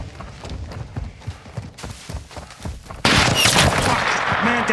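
Gunfire in a Call of Duty Modern Warfare II campaign battle, muffled shots and footsteps at first, then a sudden loud burst of dense firing and chaos that continues to the end.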